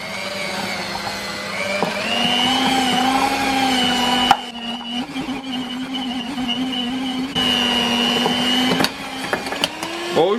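A stand mixer hums steadily as it kneads donut dough in a bowl, its motor tone droning on with a brief knock partway through, while a person talks over it.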